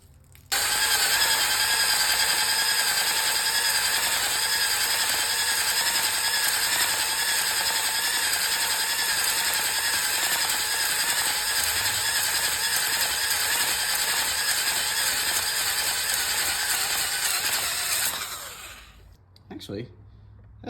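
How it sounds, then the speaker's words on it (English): A cylinder hone whirs steadily inside an engine cylinder from a Corvair Rampside pickup, a loud continuous mechanical grinding that runs unbroken for about eighteen seconds before winding down and stopping. "we're gonna take a hone and see if we can't get that thing cleaned up and usable"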